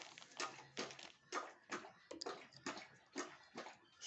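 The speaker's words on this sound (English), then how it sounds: "Sorry about my dog drinking next to me" A dog laps water close by, a rapid wet rhythm of about ten splashy tongue strokes roughly two per second, heard alone without speech.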